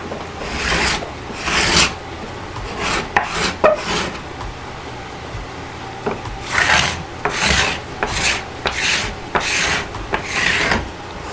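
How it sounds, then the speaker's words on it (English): Cabinet scraper smoothing a wooden workpiece, producing loud, close, raspy scraping strokes in uneven bursts with brief pauses between passes. "I'm going to take the cabinet scraper, I think, and go over this and see if I can't get this here a little smoother."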